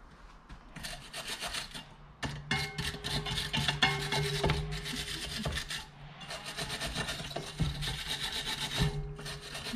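Wire brush scrubbing a fresh weld bead in quick rough strokes, a gritty scratching rasp that comes in close bursts with short pauses between them, with no voices.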